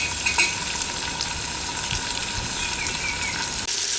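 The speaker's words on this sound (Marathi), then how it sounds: "आता आपण ह्या कांदा टोमॅटो बरोबर हे परतून घेऊया. मी हे बटाटे घालतो याच्यात." Potatoes tossed into onion and tomato sautéing in a pan sizzle and fry loudly and continuously, with stirring clatter up close.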